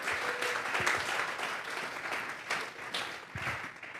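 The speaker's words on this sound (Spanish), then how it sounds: "Vamos a regalarle ofrenda de palmas al Dios de la gloria" A church congregation claps steadily for several seconds as an offering of praise to God, a dense, moderately distant wash of applause with no talking over it.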